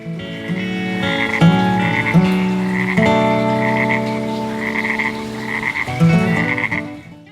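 Frogs croak in the monsoon rain in the Goa wildlife, a loud, close chorus of repeated throaty calls overlapping in pulsing bursts throughout, with no voices.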